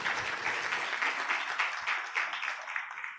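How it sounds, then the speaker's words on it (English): A conference audience at a tax breakfast applauds the moderator with moderately loud, steady clapping from many hands that fades slightly near the end. "Can I request we put our hands together for the moderator as well?"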